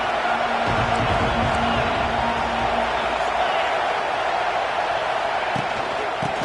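A stadium crowd roars in the College Football 26 video game as Georgia lines up to kick off, a dense, steady wall of noise that holds for the whole stretch, with a few soft low thumps near the end.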